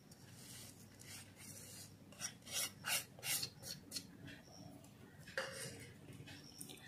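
Ground spices, cumin, coriander and carom seeds, are worked by hand into potatoes in a bowl, giving soft rasping, rubbing scrapes in irregular bursts. Quiet and close, with no talking.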